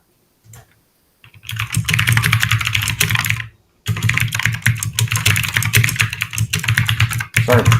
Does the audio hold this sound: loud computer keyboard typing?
yes